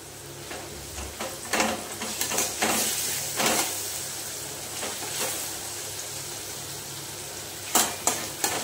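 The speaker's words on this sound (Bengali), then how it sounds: "এইবারে এই যে রসুন বাটা আর লঙ্কা বাটাটা দিয়ে দেবো" Garlic and chili paste hit hot oil over fried potatoes in a home kitchen, giving a steady sizzle with several sharp scraping stirs of a spatula against the pan, close by and without talk.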